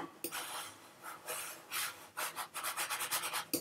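Writing is erased from a board in back-and-forth strokes, soft close scrubbing swipes that quicken into short rapid rubs near the end, quiet throughout.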